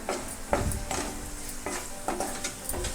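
Veg Maggi noodles with masala, chili powder and turmeric being stirred in a pan, with repeated scraping strokes of a spoon against the metal over a light sizzle, close and irregular, several strokes in a few seconds.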